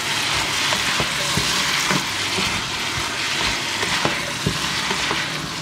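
Zucchini and other vegetables with mint stir-fry in a pan, a continuous loud sizzle broken by frequent light knocks and scrapes of the spatula against the pan.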